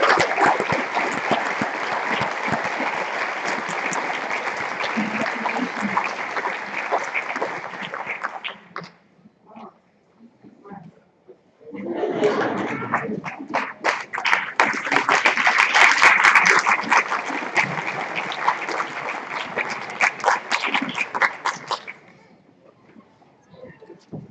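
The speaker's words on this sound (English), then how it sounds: "let's give them all a big round of applause." An audience at a high school senior awards ceremony applauds the recipients in two sustained bursts of dense, crisp clapping with a short lull between them, close and lively, with some voices mixed in.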